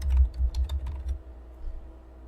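Fingers type a password on a computer keyboard, a quick close burst of several clicky keystrokes that stops after about a second, leaving quiet room tone.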